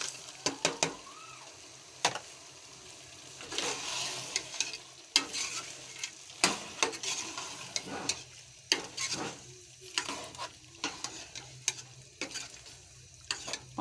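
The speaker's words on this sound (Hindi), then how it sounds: "पाँच मिनट इनको हम अच्छी तरह भुनाई कर लें" Frozen peas fry with minced meat in a pan, a low sizzle broken by repeated sharp clanks and scrapes of a spoon stirring against the pan, moderately quiet and without talk.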